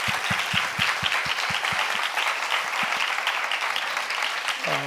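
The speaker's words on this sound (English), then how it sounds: "Let's give a warm welcome," Conference audience giving warm applause to welcome a speaker onstage, a sustained wash of clapping with some distinct low thumps early on, ending with a brief tone at the close.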